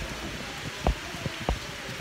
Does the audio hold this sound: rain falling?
yes